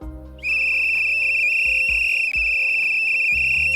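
A loud, steady high-pitched whistle holds throughout over a low musical backing with soft rhythmic notes.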